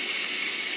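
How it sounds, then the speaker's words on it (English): Steam vents from the valve of an Instant Pot electric pressure cooker after cooking chicken and vegetables, making a steady, loud, close hiss that stays even throughout with no talking. "make sure that if you open this up, the steam is escaping into the room"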